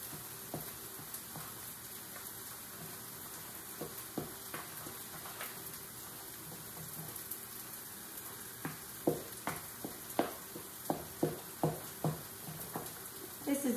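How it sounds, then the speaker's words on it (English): Eggs being stirred into soft mashed potatoes for salt cod balls, with wet, squelching mixing strokes and scraping close by, growing into a quick run of sharper taps and knocks toward the end over a faint background hiss. "I'm gonna add my eggs into my potatoes and mix it."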